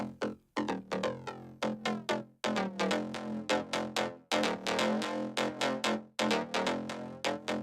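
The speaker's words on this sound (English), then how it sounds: "I think I'm affecting the frequency echo while I'm also bringing up and down the cutoff" Synthesizer playing a repeated rhythmic pattern of short stabbed notes, each sweeping in brightness as the filter cutoff is moved up and down, with echo tails trailing between the hits.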